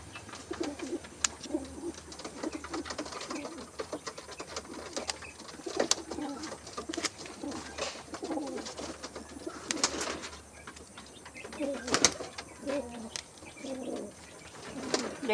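Pigeons kept at home coo in soft, repeated low calls, near and moderately loud, with a few sharp clicks and rustles among them.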